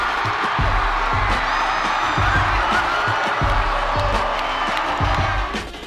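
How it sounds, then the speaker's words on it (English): A sold-out arena crowd roars during an Akron versus Kent State men's basketball rivalry game, a loud sustained wash of cheering with dull thumps and bounces underneath. "The roar of a sold-out crowd."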